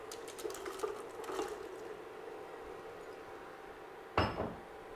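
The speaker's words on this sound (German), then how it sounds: "Das kocht jetzt gleich auf mitsamt dem Kürbis und dem Ingwer." Pumpkin and ginger in a sweet-sour vinegar brine bubble faintly in a pot as it comes up to a boil, with one sharp clink near the end.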